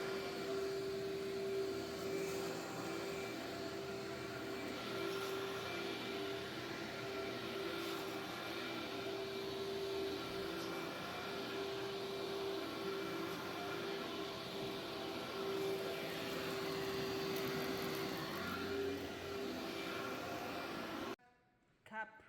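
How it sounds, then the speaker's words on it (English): A carpet-cleaning vacuum used for pet hair runs steadily with a constant whine and low drone throughout, cutting off abruptly near the end. "For this type of houses, we use the workhorse vacuum."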